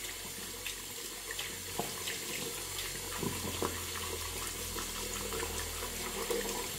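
Tap water runs steadily into a sink while a face is wetted before a shave, a continuous soft splashing flow with small irregular drips and spatters, fairly quiet and close, with no talking.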